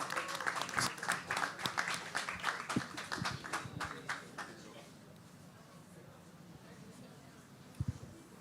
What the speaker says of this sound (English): A round of applause for them as they step forward